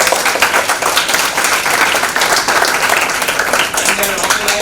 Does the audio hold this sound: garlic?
no